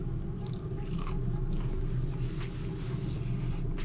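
Crunchy bites into breaded, Frank's-seasoned fried white bass, close up, with short crisp crunches and chewing over a steady low rumble of background noise.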